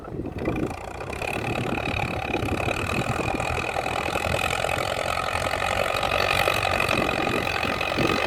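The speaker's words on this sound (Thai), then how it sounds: "โอ้รถไถฟอร์ดคันนี้ก็แรงพอสมควรครับ" A Ford tractor engine runs steadily nearby, a rough, throbbing mechanical drone that stays loud and even throughout.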